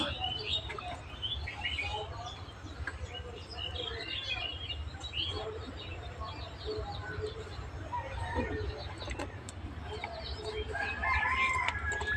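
Vaccinated chickens cluck and crow on and off against a steady low hum, with a dense layer of fowl calls throughout.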